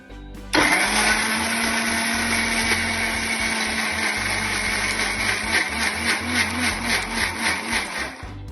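A kitchen blender whirs loudly and continuously up close as it blends chocolate and banana into ice cream, its motor pitch wavering slightly toward the end.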